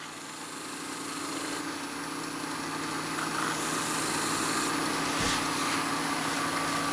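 A wood lathe runs steadily while turning a lidded burl box, giving a continuous motor hum and whir with a faint higher whine, fairly close and even throughout, with no talk.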